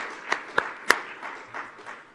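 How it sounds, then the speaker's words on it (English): Applause from an audience in a meeting room at a World Trade Ministers gathering: a brief, soft patter of many hands with a few sharper, louder claps standing out. "A round of applause, please."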